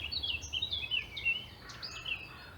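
Several birds sing in bright, overlapping chirps and trills, close and steady, in a park beside a gently flowing stream, with a soft low rumble of traffic underneath.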